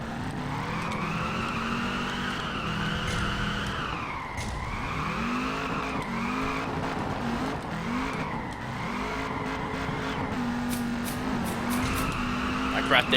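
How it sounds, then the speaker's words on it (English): A drift car in Peak Angle Drift Online slides out of control after a dip in the track, its engine droning steadily with rising and falling pitch and tires squealing throughout, under continuous talking. "that little dip right there caused my car to sling way too far out"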